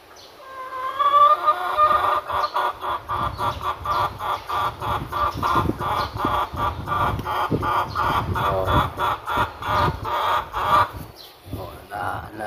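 Nearby chickens cluck steadily and rhythmically for several seconds, with a brief exclamation from a person partway through.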